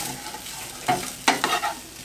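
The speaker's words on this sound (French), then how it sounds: "je fais un petit peu légèrement dorer les pommes de terre" Bacon lardons and potatoes browning in a frying pan give a soft, steady sizzle, with a few short scraping bursts as the mix is stirred.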